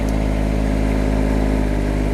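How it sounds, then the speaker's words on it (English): A Kubota GR series tractor engine runs loud and steady right by the microphone, giving off a constant mid-pitched motor drone with no speech over it. "So we'll just fire the tractor up."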